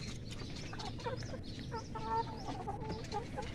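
Chickens cluck and call repeatedly at a backyard egg-laying flock, several birds close by, with short overlapping clucks rising over a steady low outdoor rumble.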